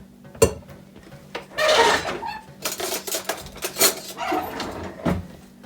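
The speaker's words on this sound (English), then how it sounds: "I just dump it, and then I'll use like a spoon to spread it out." A spoon spreads topping across homemade pizza dough, making close scraping and tapping strokes in irregular bursts, with a few sharper clinks, and no speech.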